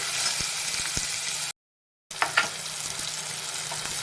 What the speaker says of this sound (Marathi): आपण ही फोडणी भाजूनच घेणार आहोत